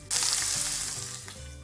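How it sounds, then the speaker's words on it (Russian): Eggplant frying in hot oil in a pan gives a loud, continuous sizzle that starts suddenly and holds steady, close up, with no talking. "На разогретую сковородку наливаем масло. Посыпаем наши баклажаны и обжариваем баклажаны до готовности."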